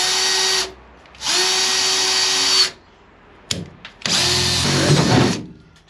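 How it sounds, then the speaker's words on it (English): A power drill bores a hole through a van's body panel in three loud, close bursts of steady whine, separated by short pauses with a few light knocks in between. "I'm going to start by drilling here, just inside."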